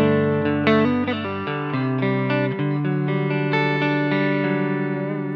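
Electric guitar played through a Thomas Blug AMP1 Mercury Edition amplifier with reverb turned on. It plays loud sustained chords and single notes with a lush, ringing tail that carries under each change.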